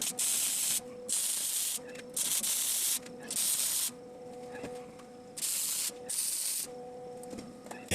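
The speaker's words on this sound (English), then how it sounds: "just come in and hit all of these holes with some weld" Arc welding on a steel farm gate clamped to a table: a series of loud crackling, hissing weld bursts about a second long, separated by short quiet gaps.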